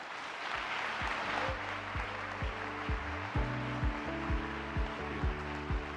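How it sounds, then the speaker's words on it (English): Audience applause after a speech at a leadership conference, a soft steady patter of clapping at moderate distance under a repeated low melodic tone pattern that rises and fades through the clip. "Applause once again in gratitude for his valuable speech."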